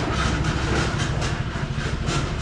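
Loud, steady rattling and clattering of a tractor hauling a trailer, with continuous rumbling machinery noise throughout.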